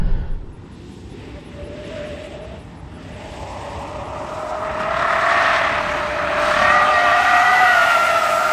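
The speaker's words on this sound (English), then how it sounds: "Whoa, first impression sliding the Cybertruck." A Tesla Cybertruck slides sideways on dirt in Baja drift mode. Its electric motors whine, climbing in pitch and loudness, while the tires scrub and hiss near the end.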